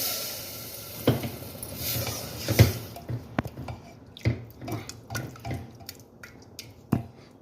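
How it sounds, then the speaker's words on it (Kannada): Water used to rinse a mixer jar is poured into horse gram gravy, with sloshing, dripping and splashing at first, then scattered wet drips and squelchy taps, close and fairly quiet, with no one speaking. "ಹಾಗೆ ಮಿಕ್ಸಿ ತೊಳೆದಿಟ್ಟಿರೋಂಥ ನೀರು ಹಾಕ್ಕೊಳ್ಳೋಣ"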